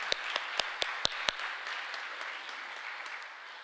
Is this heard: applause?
yes